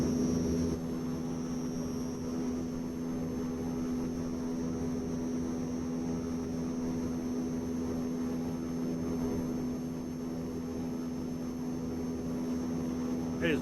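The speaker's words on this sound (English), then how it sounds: "That is one big plane." A large multi-engine propeller aircraft, related to the C-130, drones steadily in a flight simulator, a loud continuous engine hum with a strong low tone that holds level throughout, close and without interruption.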